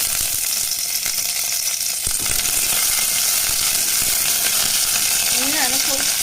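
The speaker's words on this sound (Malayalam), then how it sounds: "അപ്പോൾ നമുക്കിത് നല്ല പോലെ വഴറ്റിയെടുക്കാം ഉള്ളിയൊക്കെ മൂത്ത് വന്നിട്ടുണ്ട്" Onions and curry leaves sauté in hot oil for a soya chunks curry, producing a loud, continuous crackling sizzle with scraping stir strokes throughout and no talk.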